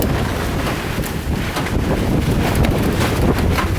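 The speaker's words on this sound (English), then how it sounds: "I ain't never seen no wind this strong too much." Strong gusts of wind, up to about 90 mph, buffet a portable car garage outdoors, producing a loud, continuous roaring rumble with heavy microphone wind noise throughout.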